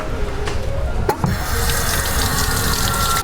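Water runs from the tap into a workshop sink during the cleaning of C5 Corvette wheels, a loud, steady gushing stream close by with a brief clunk partway through.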